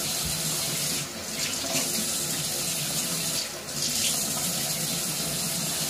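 Tap water runs steadily into a sink while eyelashes are rinsed of mascara, a continuous close hiss with brief shifts as hands move through the stream.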